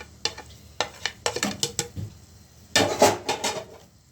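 Peeled tomatoes tipped into a pan and stirred, giving a string of sharp scraping and clinking knocks of a utensil against the pan, with a denser, louder burst of stirring near the end.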